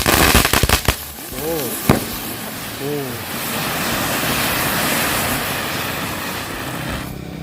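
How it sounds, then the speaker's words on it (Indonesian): A firecracker is lit and goes off in a rapid burst of sharp cracks close by, followed by a couple of whistling fireworks and a lingering rumble that fades into loud outdoor noise. "ini dia merconnya, siap untuk kita nyalakan"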